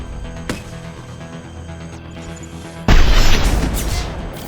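A concussive shot power going off in Mass Effect 2, a sudden loud blast that breaks over steady combat noise and rings out for about a second before tapering into a dense, noisy wash.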